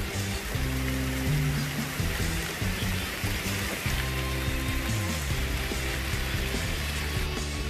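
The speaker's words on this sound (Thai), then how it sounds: "ฝนตกอยู่กลางดอยค่ะ" Rain pours on a mountain, a continuous broadband wash with trickling water and a low droning hum beneath, loud and unbroken throughout.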